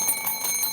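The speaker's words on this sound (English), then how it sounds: "Judge Joe Brown, we're going to give you the ding dong." A bright ding-dong bell chime rings on its own, steady and fairly loud for under a second, with shimmering sustained tones and no voices.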